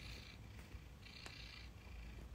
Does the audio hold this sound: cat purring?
yes